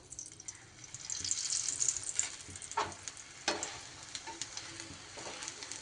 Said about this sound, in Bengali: এক চামচ তেল দিয়ে ভাজলেই এটা ভাজা হয়ে যাবে